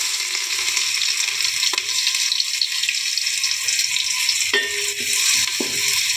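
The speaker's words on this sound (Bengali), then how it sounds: "পেঁয়াজ কুচি দিয়ে দিলাম" Chopped onion frying in hot oil with cabbage, ginger and carrot, a steady close broadband sizzle with a few brief stirring clinks, no talk.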